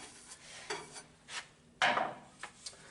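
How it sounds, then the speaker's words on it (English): A bench broom sweeps the top of a woodworking bench after sanding cricket table legs, giving a few brief, soft brushing swishes with one louder stroke near the end, close by and with no talking. "just really quickly use a bench broom and clean off the top"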